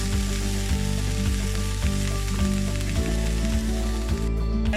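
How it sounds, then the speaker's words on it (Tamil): Beans and shark fish fry slowly over a low flame, giving a loud, continuous sizzle with a rhythmic low droning pattern underneath. "இப்படியே இதை கொஞ்சம் கொஞ்சமாக மெல்லிய நெருப்பில் வச்சு வறுத்தெடுக்க போகிறேன்"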